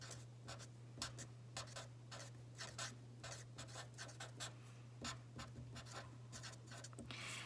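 A pencil scratches across paper in short, irregular strokes, some quick and some longer, close and quiet over a faint steady hum, with no voices.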